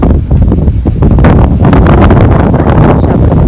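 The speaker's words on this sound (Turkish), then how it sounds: "Birazcık da rüzgarlı." Strong seaside wind buffets the microphone in a constant loud roar, rumbling and gusting throughout with no other clear sounds.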